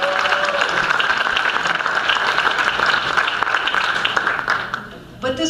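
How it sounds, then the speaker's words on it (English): A crowd at the New York Democratic Convention applauds, a loud sustained wash of clapping with some voices mixed in, fading briefly near the end before speech resumes. "I want to give him a huge round of applause."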